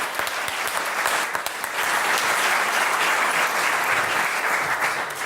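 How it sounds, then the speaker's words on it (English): Sustained audience applause at a startup networking event, a dense, even roar of many hands clapping, loud and steady throughout with no talk over it. "Can we clap it up for Painless 1099?"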